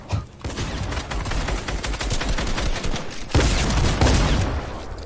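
Fortnite gunfire erupts in a dense, rapid barrage of close shots, a continuous crackling fusillade that swells louder partway through, with no speech over it.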